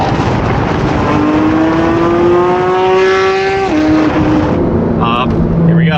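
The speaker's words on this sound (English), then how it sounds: "Car sounds so good." A Ferrari engine revs close by, its pitch climbing in a smooth rising whine before dropping off, then a few shorter blips follow, loud and steady throughout.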